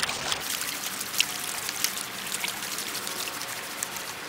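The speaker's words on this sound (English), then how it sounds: "So I'm going to swirl it around, shake all the heavies to the bottom" Water swirling in a gold pan as material is shaken to settle heavy particles, a continuous splashy trickle with small sloshing bursts, close and steady.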